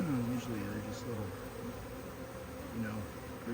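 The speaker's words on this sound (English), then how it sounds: "I don't usually see my hive swarm with that many bees." A large honeybee swarm in a garden produces a dense, continuous buzz, with individual bees droning past close by and their pitch sliding up and down over the steady hum.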